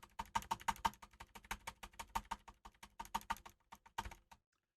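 Backspace key presses on an Akko Ocean Star mechanical keyboard clack in a steady run of sharp, close presses, a few quick ones at first, then evenly spaced taps that stop near the end.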